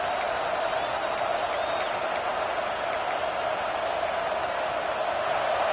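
A college football video game stadium crowd roars steadily as the offense faces first and goal, a broad, even wash of noise with faint whistles and cheers poking through.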